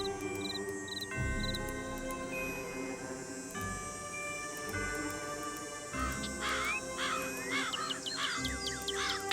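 A cardinal chirps in the Nancy Drew: Ghost Dogs of Moon Lake video game. A few short, high chirps come early, then more rapid trills later, all faint over a steady, layered outdoor game ambience.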